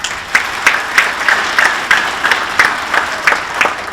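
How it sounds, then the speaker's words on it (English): Audience applause fills a hall at a sports hall of fame induction ceremony in St. Joseph, a steady wash of many hands clapping with rhythmic surges, close and loud, no talking. "A big round of applause for the good folks from Hy-Vee"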